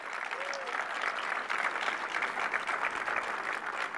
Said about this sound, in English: Let's give a big round of applause for all of our port workers here